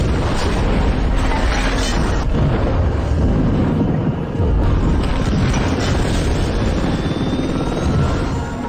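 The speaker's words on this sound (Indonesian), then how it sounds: "Setelah ledakan besar tersebut, Declan dan Jack terluka parah dan tertimpa" A big explosion in the action film SAS, a loud, dense roar and rumble of blast and debris that holds steady for several seconds, with a brief dip midway and no voices.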